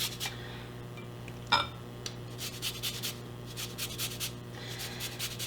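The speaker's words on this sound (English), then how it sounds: "I'm going to just zest it right on in my bowl." Half a lemon is zested into a bowl for tzatziki sauce: quiet, close rasping strokes in a steady rhythm with one brief knock, and no voices.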